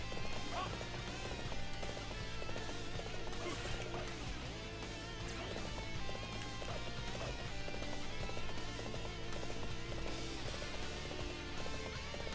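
Galloping horse hooves in the video game Dynasty Warriors 7, a steady clip-clop running under dense battle music and game noise throughout, with no one talking.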